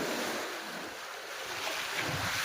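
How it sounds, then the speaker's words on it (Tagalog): Large ocean waves surge and wash around a small fishing boat at sea, a continuous broad rush of surf mixed with gusting wind buffeting the microphone and no voices. "Kaya mga bro, malalaki na yung alon."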